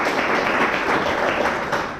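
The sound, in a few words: audience applause at a meetup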